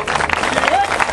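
Audience applause at an outdoor karate exhibition at a flower fair, a dense burst of clapping under an announcer's amplified voice.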